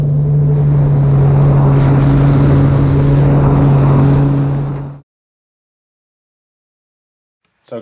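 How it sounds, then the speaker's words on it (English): Bass boats idle past on the Dead River in the Harris Chain of Lakes, a loud, steady engine drone with a strong low hum that cuts off abruptly into silence. "there's boats idling by"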